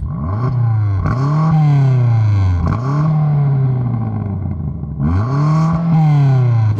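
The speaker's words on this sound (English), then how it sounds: "Now let's hear it from the exhaust." Loud exhaust blips from a BMW M5 CS, four sharp revs that rise quickly and fall away, each with a crackling, rasping edge, heard up close.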